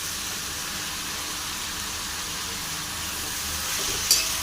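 Chow mein noodles fry in a pan with vegetables, making a soft, constant sizzle close by, with a small clatter near the end and no talking.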